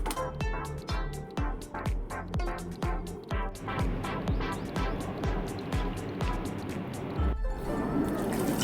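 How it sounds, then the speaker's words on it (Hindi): Water is poured onto potted plants at a home in India, with repeated splashing bursts as each pour lands, followed by a steadier stream of trickling and gurgling, close and moderately quiet. "चलिए चलकर पूरे पेड़ में पानी डाल लेते हैं।"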